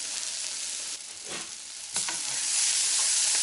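Bacon jam with onions and thyme sizzles and fries steadily in a pan, broadband frying hiss throughout with a few stirring scrapes, growing slightly louder toward the end; no voices.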